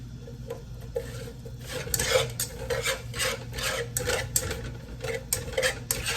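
Onions stirred into melted butter and seasonings in a pan for veggie pasta, rhythmic scraping strokes of a utensil against the pan over a low sizzle, fairly close and continuous.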